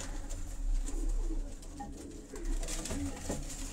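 Karachi pigeons cooing close by, low soft repeated coos in an irregular rhythm, with faint rustling and background noise and no talk.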